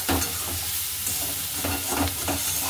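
Carrots frying in a pan as they are stirred, with a constant close sizzle broken by repeated scraping strokes of a spatula at an uneven rhythm, and no voices.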